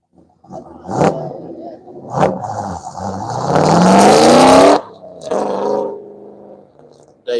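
A Dodge Durango roars through an autocross run at Grissom Air Force Base, engine note climbing to a loud, strained peak before cutting off abruptly, with brief voices before and after.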